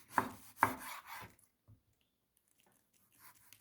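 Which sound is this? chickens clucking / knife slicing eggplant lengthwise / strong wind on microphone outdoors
knife slicing eggplant lengthwise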